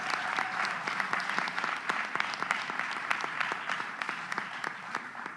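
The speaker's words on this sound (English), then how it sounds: "Can we give her a round of applause?" Audience applause at a press briefing with the New York governor, a steady round of clapping from a modest crowd indoors, close and even, lasting several seconds with no talking over it.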